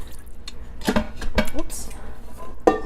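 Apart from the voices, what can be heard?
rinsing the Instant Pot inner pot with water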